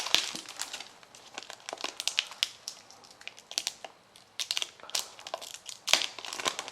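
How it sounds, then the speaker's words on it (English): Packing tape is cut and a parcel of Kickstarter rewards is opened by hand, giving close, irregular crinkling and crumpling bursts of plastic and paper, with no talk. "this type of tape really sucks, by the way. It's like basically packing tape. I guess I'll just fucking cut it."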